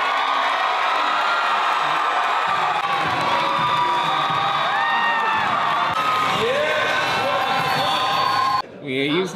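A comedy show audience in Houston, Texas cheers, whoops and shouts loudly and continuously, a dense crowd roar with scattered yells that drops off abruptly near the end.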